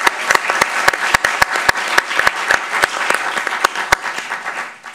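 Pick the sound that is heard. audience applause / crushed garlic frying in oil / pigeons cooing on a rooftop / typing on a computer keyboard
audience applause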